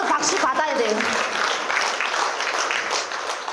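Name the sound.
audience applause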